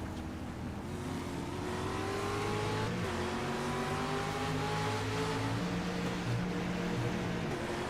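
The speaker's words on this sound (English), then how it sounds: "Let's go on board with Fulford on the green here. See if we can't get a listen" Onboard engine of a street stock race car at Five Flags Speedway, revving loud and continuous as it climbs through the RPM range, with rising and falling harmonic tones under a steady roar and no talk.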